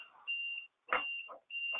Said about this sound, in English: that alarm just went off to tell me that we have now used our 15 minutes